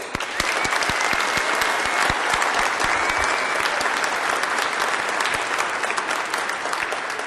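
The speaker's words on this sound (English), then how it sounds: "They all deserve an additional round of applause." Sustained applause from an audience at a Department of Sanitation swearing-in ceremony for promotees and inductees, dense and steady clapping that holds at full strength throughout with no talk over it.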